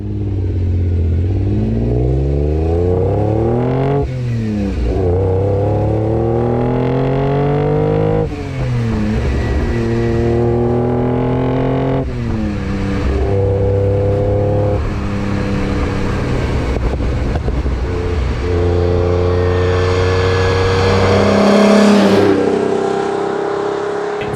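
A Fiat Dino Coupe's Ferrari V6 engine revs hard through repeated climbing gear pulls, its pitch rising and dropping between shifts, growing into a high-pitched howl near the end.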